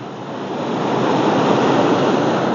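Sea waves wash around a rocky hill on a wild stretch of coast, a steady broadband surf roar that swells slightly louder and stays constant, with wind mixed in and no talking.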